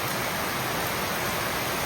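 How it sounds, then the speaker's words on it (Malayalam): Heavy monsoon rain pours down as a dense, loud, unbroken roar of broadband noise, with no voices heard. "അത്ര ശക്തിയായിട്ടാണ് മഴ പെയ്യുന്നത്."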